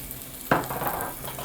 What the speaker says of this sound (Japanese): それでじゃがいもを和える。